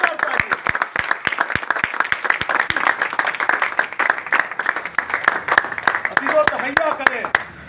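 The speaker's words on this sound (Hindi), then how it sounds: "जोरदार तालियां।" Sharp, evenly spaced hand claps ring out from a church congregation, steady and fairly close, continuing for several seconds before more scattered claps near the end, with a voice speaking over them.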